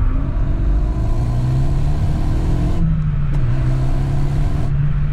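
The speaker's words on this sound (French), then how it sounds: "Alors t'as le bip, en fait, à chaque fois que tu arrives au niveau du rupteur, qui te dit à quel moment passer à vitesse" A Renault Megane RS engine revs hard and climbs toward the limiter several times, with rising harmonic sweeps, brief cutoffs and a shift-beep moment, loud and close with no speech.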